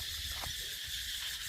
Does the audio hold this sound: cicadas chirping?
yes